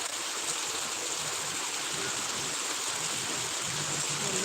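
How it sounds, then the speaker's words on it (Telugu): Rainwater gushing steadily from pipes during heavy rain, a continuous broad hiss and splash of falling water, close and unbroken from start to finish. "పైపుల నుంచి ఎంతగానో వస్తుందండి వర్షం"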